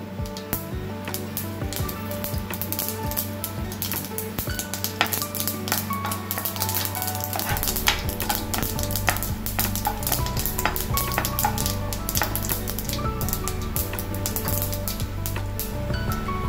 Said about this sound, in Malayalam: പിന്നെ കുറച്ച് കടുകും രണ്ട് മണി ഉലുവ ഇട്ട് കൊടുക്കുക.